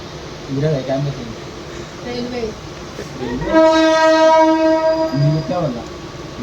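A Mumbai train rumbles along as its horn sounds one long, loud blast midway, with people talking nearby before and after.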